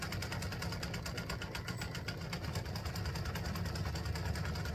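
A sewing machine runs steadily stitching an open, narrow zigzag around a fabric game piece, a fast even mechanical whir and rhythmic needle patter heard up close without speech.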